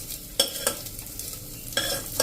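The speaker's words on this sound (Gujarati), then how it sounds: "એને આપણે 1 મિનિટ શેકશું ને એટલે આ રીતે દાણા ઉપર ઘીનું કોટિંગ થઈ જશે" Basmati rice roasting in ghee in a pan: a low steady sizzle under a few sharp scraping stirs of a spoon against the pan, with no voices.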